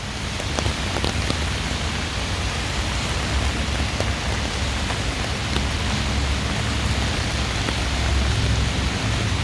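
Steady rain falls on a downtown Chicago street in Streeterville near Lakeshore Drive, a dense, continuous hiss of drops on pavement with low rumbling city background, fairly loud and unbroken, no talking.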